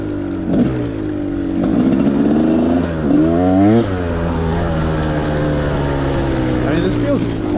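A Gas Gas 300 dirt bike engine revs hard while being ridden, its pitch climbing and falling through several throttle bursts before settling into a steadier drone, close and loud with some wind noise.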